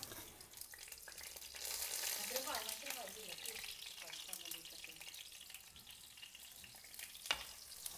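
Flour-coated flounder sizzles and crackles steadily in a hot pan, a continuous frying hiss with occasional clatter of utensils nearby.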